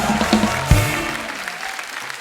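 A studio audience applauds guests on a comedy talk show, a steady wash of clapping under background music, with a brief thump and faint voice near the start.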